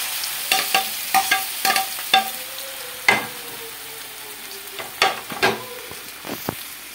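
Banana with cashews and raisins frying in a pan, a soft sizzle punctuated by a series of sharp spatula knocks and scrapes at an irregular pace, close by and without talking.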